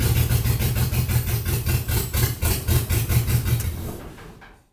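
A vehicle engine runs after being jump started with a GOOLOO GP4000 jump starter, a loud close rhythmic chugging throb that pulses steadily, then fades away at the end.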